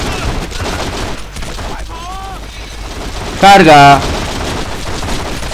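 Gunfire from The Matrix: Path of Neo, a rapid rattling fusillade running under a man's Spanish speech and game voices, with a short loud burst near the end.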